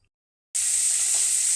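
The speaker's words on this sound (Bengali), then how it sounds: "আমি মাছটা ভাজবো" Rohu fish frying in hot oil in a home kitchen: after half a second of silence a loud, steady, hissing sizzle bursts in and holds evenly to the end, with no voices.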